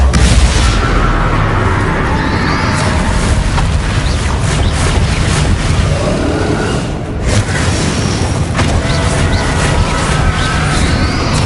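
Bombarda spell explosions in the Hogwarts Legacy video game, heavy rumbling booms and crashing blasts layered over dense, continuous loud game combat noise.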